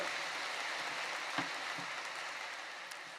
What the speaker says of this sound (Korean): 우리 겟세마네 찬양대에게 뜨거운 감사의 박수 한번 주시기 바랍니다